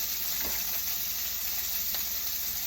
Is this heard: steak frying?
yes